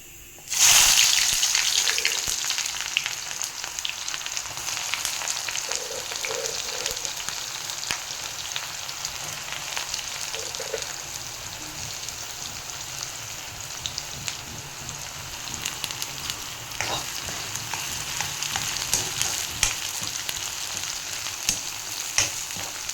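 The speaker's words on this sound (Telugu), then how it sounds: "దీంట్లో ఇప్పుడు ఆనియన్స్ వేసేద్దాం." Chopped onions hit hot oil for mutton keema and burst into a loud, steady sizzle that crackles on without pause, with faint stirring clinks now and then and no talking.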